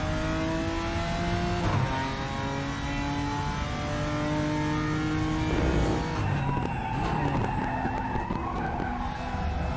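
A GT4 race car in the RaceRoom racing game downshifts from third to second gear, with loud engine harmonics dropping and rising, revving and tire noise filling the whole stretch, close and continuous.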